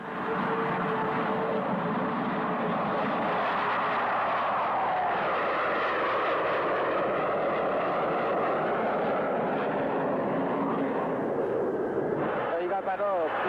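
A B-52 bomber cruising at 35,000 feet, its engines making a steady, loud roar that fills the cabin without a break, while someone talks over it throughout.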